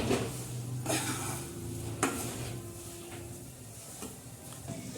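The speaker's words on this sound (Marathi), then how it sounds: "असा रवा आपला मस्त भाजत आहे" Semolina roasts in a pan as it is stirred, with a soft, low sizzle broken by a few clinks and scrapes of a spoon against the metal.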